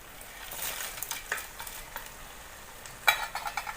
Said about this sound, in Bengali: এখন আমি দিয়ে দেবো এর মধ্যে ভেজে রাখা কাঁকড়াগুলো।